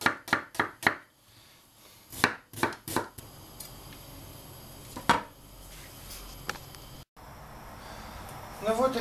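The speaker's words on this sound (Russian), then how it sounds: "режем тоненько лук" Onion sliced thinly with a knife on a board: quick bursts of crisp chops in clusters, separated by pauses, with brief speech and background noise between.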